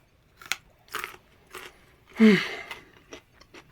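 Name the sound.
crunching on raw carrots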